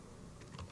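Quick keystrokes on a computer keyboard as a PIN code is entered, a short cluster of light clicks near the end, faint and close against a quiet room hum.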